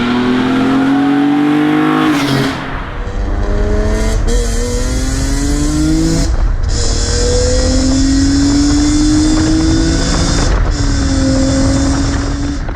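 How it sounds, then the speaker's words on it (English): BMW M3 CSL with a carbon intake airbox, engine intake roar rising through several hard gear pulls with brief dips at each shift, loud and close with no talk. "it's more about the intake noise"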